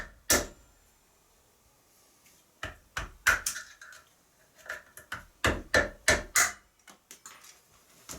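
Hammer tapping a stick into place in a shed, an irregular run of sharp knocks: one early strike, a pause, then clustered taps of varying loudness.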